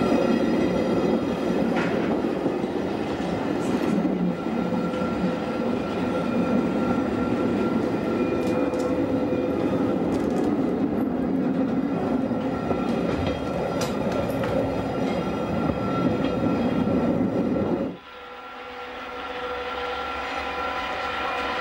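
The Bernina Express electric train runs on a Swiss mountain railway with a steady loud rolling rumble and wheel noise that drops suddenly near the end to a quieter hum.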